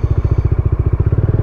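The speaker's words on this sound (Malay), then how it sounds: "Saya dah siapkan motosikal untuk ride." Close, loud idle of a Modenas Dominar 400 motorcycle engine, with a steady, fast, even exhaust pulse throughout.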